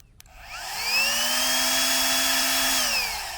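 A small Flextail Max Pump 3 mini air pump whirs up to a steady high-pitched motorized hum while blowing on charcoal flames, holding even and fairly close for a few seconds before winding down.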